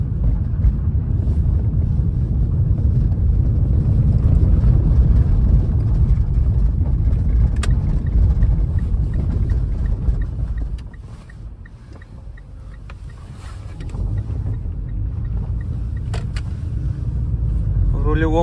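Steady low engine hum and road rumble from inside a moving Mitsubishi ASX, briefly easing midway before the drone picks back up.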